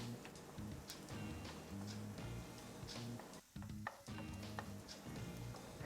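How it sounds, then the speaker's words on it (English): Garlic and onion sauté in olive oil under continuous stirring, a faint close sizzle with frequent light scraping and tapping of a spoon against the pan, briefly dipping quiet midway. "start mixing the garlic and onion around with the olive oil"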